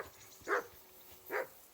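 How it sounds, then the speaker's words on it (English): Two short dog barks about a second apart, moderately distant and fairly faint, over a quiet background, from a dog in the medieval video game Kingdom Come: Deliverance 2. "Can you get your dog to shut its beak?"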